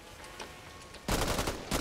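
A newly picked-up firearm in the Back 4 Blood zombie shooter fires loud, dense bursts of rapid shots, starting abruptly after a quieter stretch of background game noise, then a brief pause before another burst.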